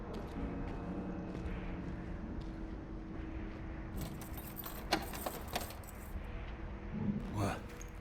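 Keys jangling in Dishonored 2, a bright metallic rattle in a few short bursts over steady low ambient rumble, alone without talk.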